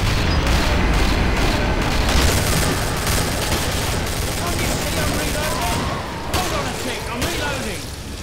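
Rapid gunfire in the Killing Floor video game, loud and continuous across the whole stretch, dense bursts blending into a steady din with a brief dip near the end.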